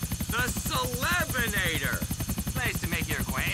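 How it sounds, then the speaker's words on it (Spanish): A helicopter in GTA IV: The Ballad of Gay Tony beats steadily with rapid rotor chop, loud and close, while someone talks over it. "Vuela con el helicóptero hacia la isla de la felicidad a la mayor altura posible."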